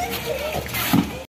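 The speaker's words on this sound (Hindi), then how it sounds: "पानी की बौछार।" Water splashes and sprays during a village Holi celebration, a brief burst of splatter near the end amid lively voices and outdoor commotion.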